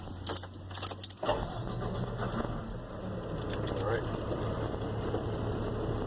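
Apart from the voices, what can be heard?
truck engine starting and idling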